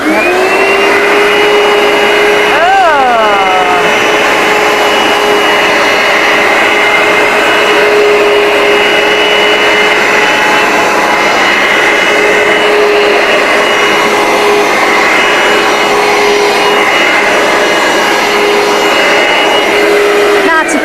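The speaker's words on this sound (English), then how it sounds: "I'll go through it just with suction first, and then I'll come back and I'll release the solution" A carpet cleaner runs on suction only, a loud, constant high-pitched motor whine with a steady airy roar that holds for about twenty seconds, a brief pitch wobble early on.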